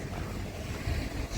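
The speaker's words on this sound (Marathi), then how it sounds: "इथे बाजूलाच समुद्र आहे" Sea waves wash beside a coastal road at Malvan in Konkan, a steady broadband roar with gusty wind buffeting the microphone, close and continuous throughout.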